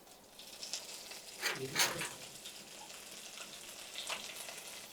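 Mustard and cumin seeds crackle and sizzle in hot oil with a few sharper pops bursting through, a close, busy frying sound with no talking.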